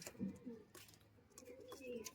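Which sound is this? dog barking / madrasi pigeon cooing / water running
madrasi pigeon cooing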